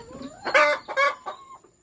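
Laying hens on a small egg farm cluck loudly in three close bursts, their calls rising and falling over a short span with no talking.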